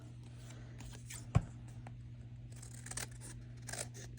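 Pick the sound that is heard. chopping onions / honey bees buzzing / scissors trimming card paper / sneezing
scissors trimming card paper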